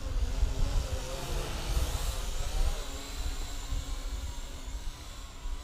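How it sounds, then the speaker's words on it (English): A WLtoys Q696-A drone flies with a whiny, airy motor buzz, fairly loud and steady with gentle swells as it moves. "It's not a very fast drone for sure."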